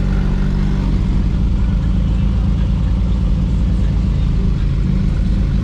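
A Porsche GT2 RS and GT3 RS roll out at a Malibu car meet, their engines giving a loud, close, continuous low rumble that fills the whole stretch.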